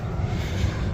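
Steady low jet engine roar from a distant airplane taking off in Honolulu, a continuous rumble with no other sounds.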